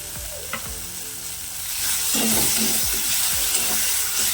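Turmeric, chili and cumin powder spice mix sautéing in a little oil for an egg curry, a close sizzle swelling louder midway with repeated spatula scrapes and knocks against the pan.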